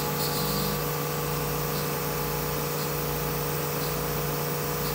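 An Anderson CNC router spindle spins at 9,000 RPM, giving a steady, loud, continuous whine with a constant hum that holds unchanged throughout, with no voices.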